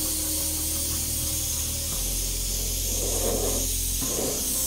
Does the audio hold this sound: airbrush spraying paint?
yes